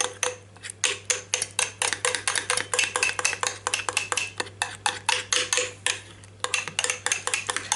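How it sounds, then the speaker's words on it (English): Joconde sponge batter being mixed by hand with melted butter, a utensil repeatedly clinking and scraping against the bowl in a fast, steady rhythm, close and fairly loud with no talking. "You see, completely mix the butter in there."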